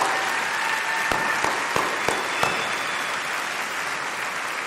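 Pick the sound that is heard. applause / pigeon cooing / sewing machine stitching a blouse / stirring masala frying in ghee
applause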